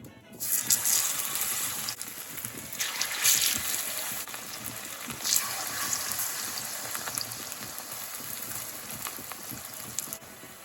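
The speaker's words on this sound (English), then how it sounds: "So now I'm going to fry my plantain because my oil is hot." Plantain frying in hot oil, a steady close hiss and crackle that carries on for about ten seconds, with a few louder bursts of spitting and no talk.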